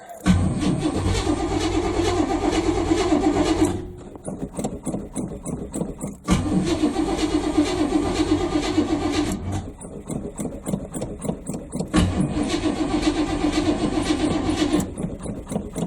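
A 1980 Malibu big-block engine, long unused, cranks with a grinding starter on a cold start, catches briefly, then cranks again in three repeated attempts, loud and close.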